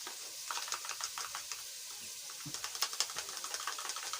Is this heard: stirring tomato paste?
yes